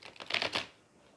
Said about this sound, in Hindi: अच्छे से शफल कर लेते हैं